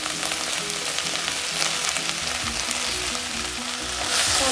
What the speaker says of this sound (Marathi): छान फ्राय करून घ्यायची कोथिंबीर